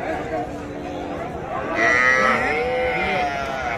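Calves and young bulls mooing at a busy cattle market at Raniganj, several overlapping low calls rising louder midway over a steady background of crowd chatter.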